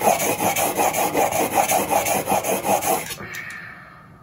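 A woodworking blade is rubbed back and forth on a wet sharpening stone in quick, even rasping strokes, about three per second, close and clear, before trailing off into quiet.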